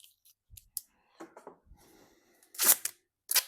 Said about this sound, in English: I'll just get myself a little bit more sticky tape.